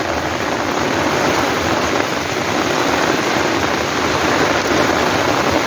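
Heavy rain from a sudden shower pours down steadily on a vegetable garden in a dense, even hiss that stays constant throughout, with no voices.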